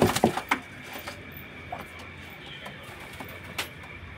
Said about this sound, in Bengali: আরেক জোড়া নাপ্তা পায়রা দেখুন